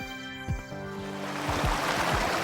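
On the Gorilla Tag cave map, a flowing waterfall rises as a steady rushing hiss. It swells in loudness after a few sliding musical tones fade out.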